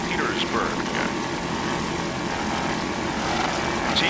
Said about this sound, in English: a 32-foot Baja, powered by two 500-horsepower Mercury inboards